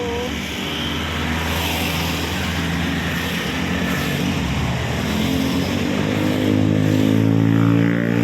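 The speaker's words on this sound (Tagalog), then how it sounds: "Ingay ng motor." A loud, steady motorcycle engine drone with a low rumbling hum holds throughout, swelling slightly toward the end, with no talking, heard from a rooftop.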